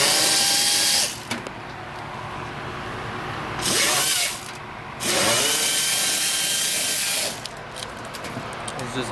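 Pneumatic impact tool bursts from beneath a Dodge Charger ScatPack during an oil and rear differential fluid change, loosening a bolt in three loud, sustained runs of about a second or more each, with quieter garage ambience between them.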